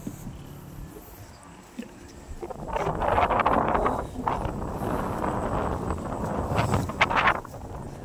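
Wind gusting over a farm field during land preparation for rice planting, rising into loud, rumbling buffets against the microphone that swell and ease in waves.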